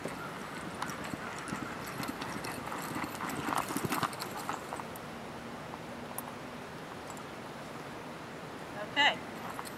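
Horse hooves clip-clopping at a steady canter on the approach to a barrel in a barrel-racing run, outdoors with wind, moderately near, with a brief louder scuff near the end.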